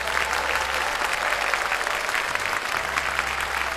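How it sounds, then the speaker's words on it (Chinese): A television quiz studio audience claps steadily for a group of young contestants, a full, even round of applause with a low hum beneath it. "来，掌声鼓励一下我们的小伙子们。"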